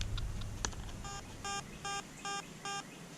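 A metal detector powers on: four short electronic beeps ring out at an even pace after a faint click, clean tones over quiet background hiss.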